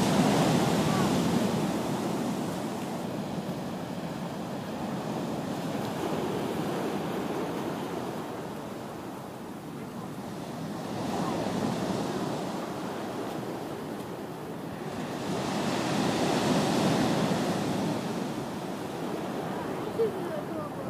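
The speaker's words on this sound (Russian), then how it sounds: "Ого, какая волна." Sea waves surge and break on the shore at Sukhum, Abkhazia, on a snowy day, a steady roar swelling into two louder crashes, with wind noise on the microphone and faint voices at times.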